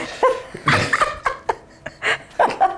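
A dog makes a series of short, high-pitched whines and yips in quick bursts, close by and fairly loud.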